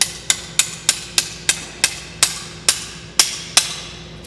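A golf iron shaft is banged down repeatedly to seat the ferrule during reshafting, giving about a dozen sharp, evenly spaced knocks, close and loud, each with a short ringing decay.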